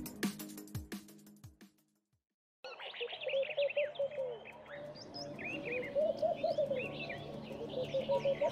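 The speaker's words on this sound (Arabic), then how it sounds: "أهمها وأكثرها انتشاراً يمامة النخيل أو اليمامة الضاحكة، كما يسمى بفاتخة النخيل." A laughing dove, or palm dove, calls in soft, rhythmic coos among other bird chirps and song, fairly close and continuous outdoors, with no voices.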